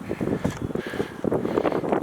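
Strong gusting wind on an exposed, rainy rung-climbing trail at Acadia National Park, buffeting the microphone with loud, rough rumbling and no speech.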